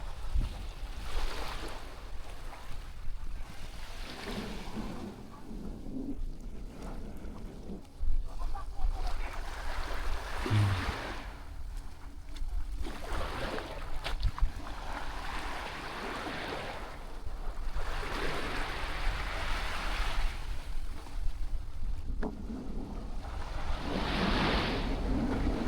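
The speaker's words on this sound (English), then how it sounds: "let y'all enjoy the sound of the ocean" Steady ocean surf rolling onto a beach in Negril, Jamaica, waves swelling and breaking in repeated washes, with wind noise throughout and no talking.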